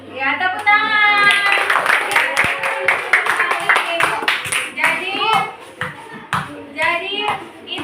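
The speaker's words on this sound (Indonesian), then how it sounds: "tepuk tangan" Class of schoolchildren clapping in applause after a group presentation in a primary school science lesson, dense sustained clapping with children's voices chattering over it.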